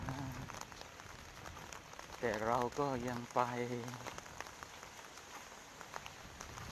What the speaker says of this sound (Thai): แม้ฝนจะตกมา